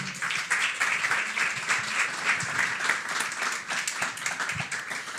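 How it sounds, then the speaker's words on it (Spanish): A loud, sustained round of applause at a cultural rights presentation welcomes a speaker to the stage, with many hands clapping together and a few sharper individual claps standing out. "voy a pedir un fuerte aplauso para recibir a Karina Mauro"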